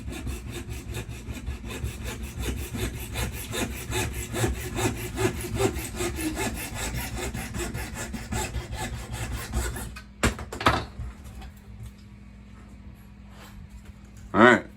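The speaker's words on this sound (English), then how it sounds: "I'm going to be using just a real fine tooth saw" Fine tooth saw cutting through PVC pipe with steady, rhythmic rasping strokes for about ten seconds, close and loud, then stopping, followed by a couple of brief handling knocks.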